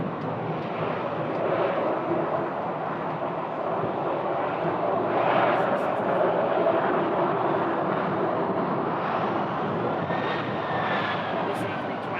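Airbus A320 airliner at Phoenix Sky Harbor Airport, a steady broad jet engine roar holding loud throughout, with a faint rising whine near the end and a few brief voices in the background.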